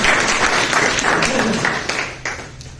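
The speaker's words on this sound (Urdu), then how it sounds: "کانفیڈنس کے لیے بھی علیحدہ سے تالیاں ہونی چاہیے" An audience at an Urdu mushaira poetry gathering bursts into applause, a dense, loud patter of clapping that gradually thins and fades over a few seconds.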